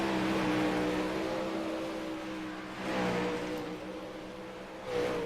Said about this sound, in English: Nate Davis, the first car out on track here. Coming around to take the green flag for him.